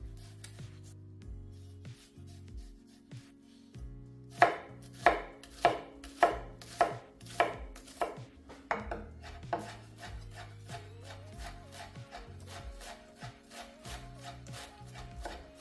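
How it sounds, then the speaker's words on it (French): A knife finely chops shallots on a cutting board in a series of crisp, rhythmic taps. A quicker burst of about seven sharp strikes stands out in the middle, then lighter, faster chopping follows, all close and fairly quiet over faint background music. "on va ciseler les échalotes"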